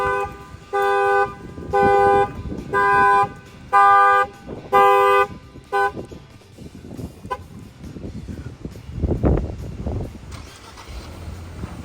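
A 2025 Infiniti QX50's factory alarm sounds a run of about six loud, evenly spaced horn blasts, then fades into a running engine and nearby vehicle rumble.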